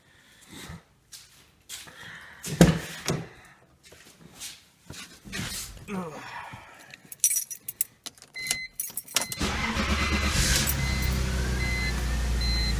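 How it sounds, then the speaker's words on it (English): After a water pump replacement, keys jangle and several knocks and clunks sound around a BMW 325i before its engine starts and settles into a steady, fairly close running drone for the final few seconds. "We just have to start the car and rolling out and see how is it gonna perform."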